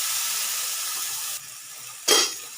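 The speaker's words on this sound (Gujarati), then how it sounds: "લીલી ડુંગળી નાખી અને સરસ આપણે સાતરી લેવાના છે મસાલાને" Green onions with cumin, asafoetida and garlic sizzle steadily in hot oil while making a village-style baingan bharta, with the hiss dropping off partway and then flaring again in a loud close burst.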